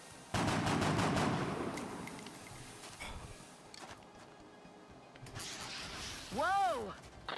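Bursts of rapid gunfire from soldiers in the turn-based strategy game X-COM Long War, a dense volley at the start followed by scattered shots, with a warbling alien-like tone near the end.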